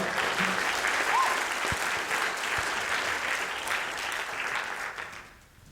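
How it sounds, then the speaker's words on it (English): Audience applause at a talk on helping people return to work after prison: dense, steady clapping from a roomful of listeners that holds strong for several seconds, then thins and fades away at the end. "give me a round of applause"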